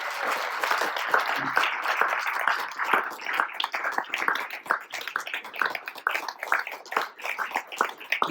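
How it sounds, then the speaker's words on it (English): Audience at a talk on NATO and Ukraine applauding General Swanek, dense sustained clapping from a roomful of people for several seconds, fairly loud and close, without speech. "So let's give General Swanek a big round of applause"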